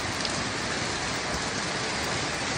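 Heavy rain pours down steadily as a dense, loud wash of noise with no pauses, falling over a flooded residential area by the Láng Sen market.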